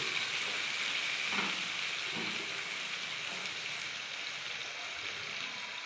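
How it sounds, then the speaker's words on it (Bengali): Marinated chicken for chicken dopyaza sizzles as it is sautéed in a pan. The frying hiss is steady and fairly loud, and a few stirring knocks and scrapes come early on. "ম্যারিনেট করে রাখা চিকেনটা। এটাকে আমি একটু কষিয়ে নেব।"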